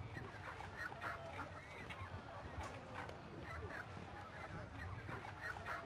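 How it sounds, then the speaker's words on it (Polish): Chickens in the video game El Dorado, at a port district market, give busy clucking and honk-like calls in steady bursts over a dense game background, with speech mixed in. "Kurczaki. Najlepszy gatunek."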